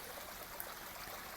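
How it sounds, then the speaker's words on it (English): A pump-fed waterfall spills into a koi pond, a faint, steady trickling rush of falling water with no talking. "This next fall here, waterfall is falling in from the pump."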